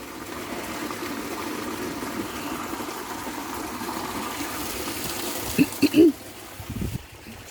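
Continuous rushing water filling a tank for an outdoor shower, steady and moderately loud, with a few brief knocks and gurgles near the end.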